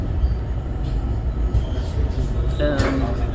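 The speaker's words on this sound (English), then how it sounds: "we are on our way up the Puy de Dôme. It's a really nice train." Interior of a rack train climbing the Puy de Dôme volcano, a constant loud low rumble with faint squeals and a brief bright screech near the end, with a voice talking over it.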